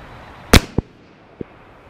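Shots from a CMMG Banshee 40 S&W firearm on an outdoor range: one sharp, loud report followed by two quieter, shorter echoing pops, with no voices.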